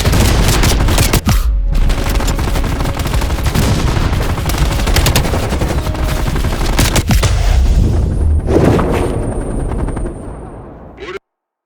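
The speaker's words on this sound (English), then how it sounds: "Mel, you're gonna have to flank that MG." Dense machine gun fire in the shooter game Call of Duty Black Ops Cold War, loud and nearly continuous with overlapping bursts and booms, dropping away abruptly at the end.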